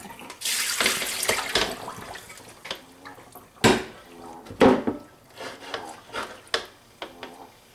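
Water splashes and rushes in bursts as it drains from rinsed grated potatoes, with scraping and rubbing sounds in between, fairly close.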